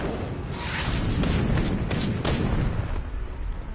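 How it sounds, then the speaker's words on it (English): Cannon fire in the Battle Chasers: Nightwar video game: a cluster of loud booming shots, several sharp reports in quick succession over a rumbling, noisy backdrop. "Cannon fire."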